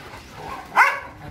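A single short dog bark rises out of a quiet background at a kennel in Baguio City, clear and fairly close, with faint rustling around it.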